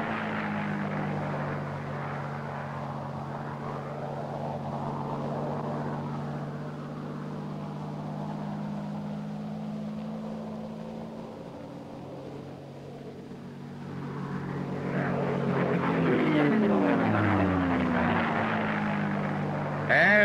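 Piston engine of a P-51 Mustang fighter plane flying a loop, a steady droning roar that swells and shifts in pitch as the aircraft climbs and comes around, loud and continuous throughout.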